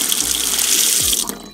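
Water poured into a sink or bathroom drain after baking soda, a steady rushing splash close up that runs for over a second, then tapers off.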